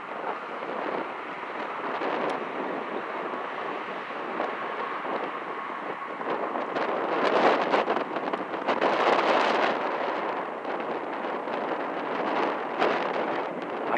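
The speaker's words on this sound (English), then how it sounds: "Since the wind is blowing that way?" Wind blowing steadily during a lightning storm in Tomball, a continuous broad roar and buffeting against the microphone that swells louder midway, with no clear voices over it.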